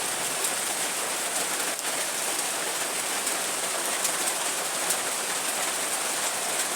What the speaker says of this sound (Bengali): সকাল 7টাতে বৃষ্টি দিয়ে শুরু।